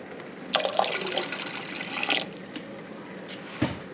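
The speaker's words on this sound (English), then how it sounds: "we're going to pour a little bit of white vinegar in our canner" White vinegar poured into a canner, a short splashing pour of liquid lasting about a second and a half, then quieter trickling and one brief clink near the end.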